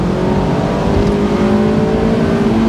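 A sports car engine, pitched as an entry-level Ferrari experience, revs and accelerates steadily and loudly close by, a continuous droning whine holding for about three seconds with no voices.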